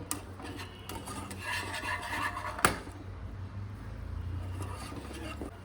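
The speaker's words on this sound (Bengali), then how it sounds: "এই পর্যায়ে এটা একটু এইভাবে নাড়িয়ে নিতে হবে" Raw mango mixture stirred in a pan with a spoon, a faint, steady scraping and rubbing that goes on throughout, with one sharp knock partway through.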